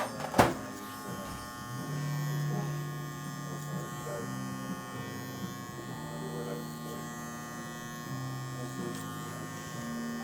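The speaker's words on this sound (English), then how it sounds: "I'll just go clipper over the comb at this point." An electric hair clipper buzzes steadily during a barber's cut-and-fade as it is worked over a comb, with short pauses and shifts in pitch as it passes through the hair, and someone talks quietly underneath.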